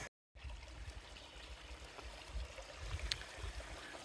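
A stream of water flows beside a hiking trail on the Appalachian Trail near Max Patch, a steady soft trickle and gurgle at close range, continuous and alone with no talking.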